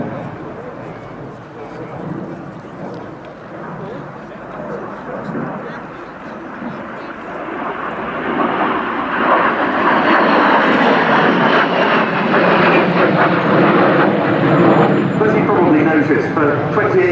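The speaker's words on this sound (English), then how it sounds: "The lead aircraft is a two-seat T-55. The second one, a single-seat FB-6 fighter bomber." Two former Swiss Air Force jets, a two-seat T-55 and a single-seat FB-6 fighter bomber, roar past at an air show, a broad engine rumble swelling louder midway and holding near, with voices faintly under it.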